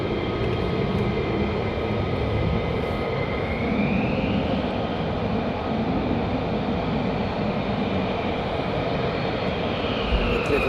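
An F-15 fighter jet at RAF Lakenheath powers up for departure on runway 24, a loud, continuous engine roar that holds steady throughout.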